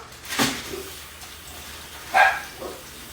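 Two short dog barks, one near the start and another about two seconds later, sounding fairly close in a quiet room.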